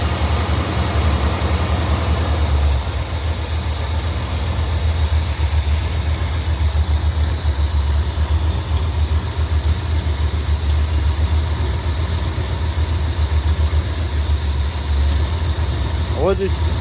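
A Ford 460 big-block V8 in a 1976 RV idles with a steady, deep rumble that continues unchanged throughout, loud and close.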